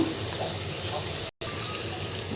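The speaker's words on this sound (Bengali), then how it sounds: "এখন দিয়ে দেবো তরকারিটাকে দিয়ে ভালো করে কষিয়ে নেব।" Vegetables sizzle in a pan with chili, turmeric and salt, a loud, steady frying hiss close up, cut by a brief silent gap partway through.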